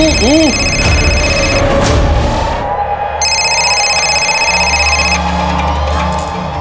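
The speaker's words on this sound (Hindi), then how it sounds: "अरे मेरा फोन बज रहा है" A phone rings with repeated electronic trilling bursts separated by short pauses, over a noisy background of crowd murmur and chatter at a Holi gathering.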